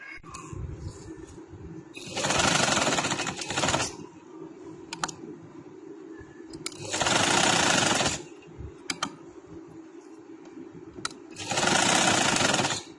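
Sewing machine stitching cotton pajama fabric, three loud close bursts of rapid whirring stitches about two seconds each, separated by quieter pauses with small clicks and handling noises.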